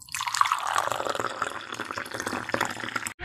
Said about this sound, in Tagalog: Maglagay ng 8 cups na tubig.